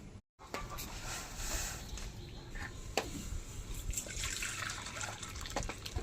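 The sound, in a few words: hot water being poured into a basin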